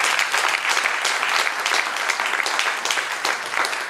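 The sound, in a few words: audience applauding the professor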